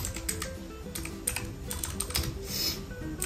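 Fast typing on a computer keyboard, entering a fastboot command in a PowerShell window: dense, close clicking keystrokes in a continuous run with no talk.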